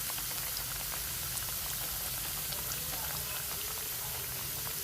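Potato triangle snacks deep frying in hot oil, a steady dense bubbling crackle that fills the whole stretch at an even level, close and continuous with no talk over it.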